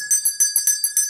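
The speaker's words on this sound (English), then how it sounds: "We gonna ring this bell" A small bell rings rapidly, with about eight bright metallic strikes in just over a second, each leaving a clear sustained ring. It is close and fairly loud, with no voices.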